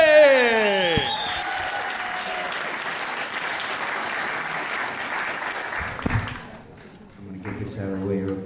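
Stand-up comedy show audience breaking into sustained applause and cheering for a comedian coming on stage, steady loud clapping for several seconds before fading, with brief voices near the end.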